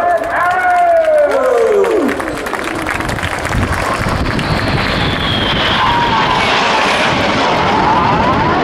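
Red Arrows jet aircraft in an aerobatic display flypast at an air show, a loud roaring whoosh sweeping overhead with descending engine whine, then sustained broad jet rumble and wind noise for several seconds.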